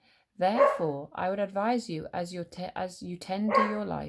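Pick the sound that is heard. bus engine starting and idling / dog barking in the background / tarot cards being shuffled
dog barking in the background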